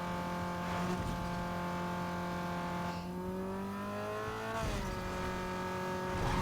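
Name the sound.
Vauxhall car racing in the video game Need For Speed Underground 2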